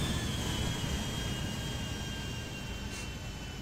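Airplanes idling at an airport in the video game GTA V, a steady jet engine whine and low rumbling hum, moderately loud and continuous with no talking.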